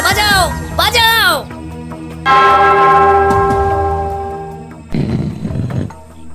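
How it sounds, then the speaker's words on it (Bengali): A large bell in a palace setting rings out with a long, resonant clang that slowly decays. Voices are heard before and after the stroke. "ওই ঘন্টাটা বাজাও, বাজাও"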